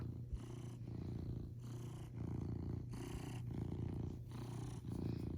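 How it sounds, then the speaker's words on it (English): A cat purrs close to the microphone in a steady, soft rhythmic rumble, each breath cycle swelling and easing about every second, with no voices. "Does anyone else just get so soothed by cat purrs?"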